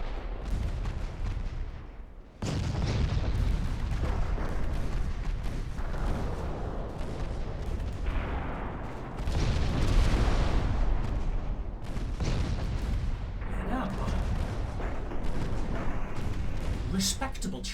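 Warship broadsides thunder in a naval battle game, with heavy, booming salvos of gunfire rolling one after another and a voice talking over the barrage.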